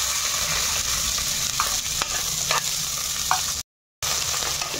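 Sliced onions and green chillies frying in oil inside a pressure cooker, a steady dense sizzle with a few faint stirring scrapes and a brief dropout near the end.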